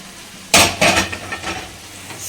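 Potato is tipped into spicy masala in a hot pan, a sudden burst of sizzling followed by a second splash and a few scraping stirs as the hiss fades, close and without talk.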